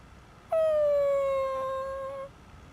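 Koromaru, the dog in the video game Persona 3 Reload, lets out a single long, loud howl, a steady drawn-out tone that sinks slightly and holds for nearly two seconds before cutting off.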